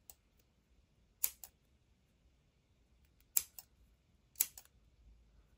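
Scissors trim the edges of paper binder strips in a quiet craft setting, giving a few soft, crisp snips in short pairs with near-silence between them.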